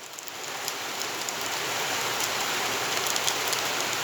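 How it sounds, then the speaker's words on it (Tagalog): Heavy rain pours down steadily, a dense, constant hiss of drops striking surfaces nearby, with no voices. "Umuulan dito ngayon guys. Sobrang ulan."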